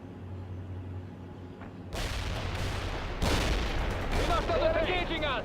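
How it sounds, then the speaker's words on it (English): Rockets firing in the World in Conflict strategy game, a loud burst of launches and blasts that grows louder in waves over low battlefield rumble, with voices shouting underneath. "Fire some rockets"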